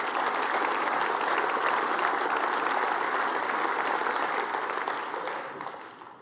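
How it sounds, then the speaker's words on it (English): Audience at a city's state-of-the-city address applauding, a dense sustained wash of clapping that holds steady for several seconds before tapering off. "Yes, clap for that."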